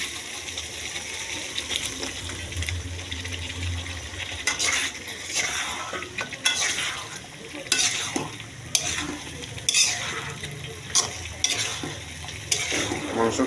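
Meat being bhuna stir-fried in a pan, a steady close sizzle broken by repeated scraping and clacking strokes of a spatula against the metal, the stirring growing louder and more rhythmic as it goes on.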